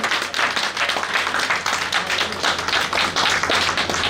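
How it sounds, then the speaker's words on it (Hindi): An audience at a college alumni gathering of doctors claps in steady, dense applause at moderate loudness, sustained without a break for several seconds. "जब तेजी से तालियां बजाइए आप लोग"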